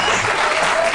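Dense, loud applause from a TV studio audience fills the whole moment, a continuous wash of clapping with no pause.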